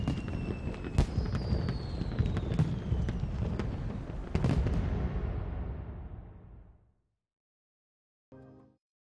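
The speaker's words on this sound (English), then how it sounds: "We get to see fireworks?" Booming fireworks crackle and burst in a dense, continuous volley with sharp pops, fading out toward the end before a brief, faint tone, in the video game Yakuza: Like a Dragon.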